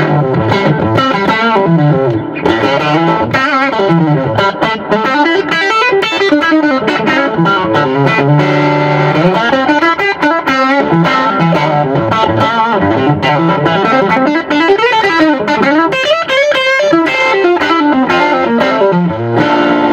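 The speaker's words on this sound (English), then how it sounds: "here's what a Strat sounds like, single coils" A heavily distorted Stratocaster electric guitar with single coil pickups plays chords and riffs, loud and continuous with a bright, buzzy crunch and no voices.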